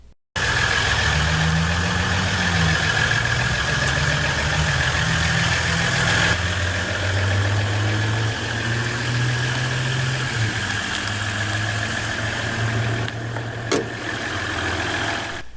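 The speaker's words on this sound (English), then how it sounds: "This Ram 1500 is powered by the optional EcoDiesel 3-liter turbodiesel V6 engine" A 2015 Ram 1500 Laramie Limited 4x4 pickup with the 3-liter EcoDiesel turbodiesel V6 idles steadily up close after a brief start, a low droning rumble with a faint high whine, running alone for the whole stretch.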